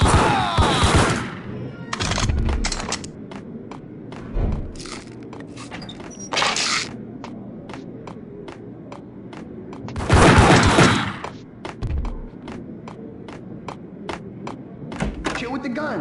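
Gunfire in the Max Payne video game, with bursts of loud close shots and rapid rattling volleys in between, scattered clicks and thuds, and a character's voice speaking over the action.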